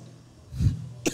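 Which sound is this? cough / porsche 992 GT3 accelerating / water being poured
cough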